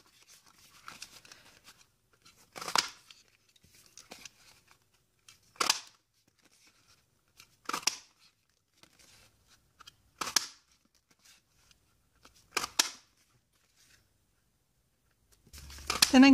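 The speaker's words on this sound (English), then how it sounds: "I'm going to use my note tag punch to punch out my card bases" A note tag punch snaps through card bases in about five sharp, crisp clicks spaced a few seconds apart, with near silence between strikes and a final rustle of paper at the end.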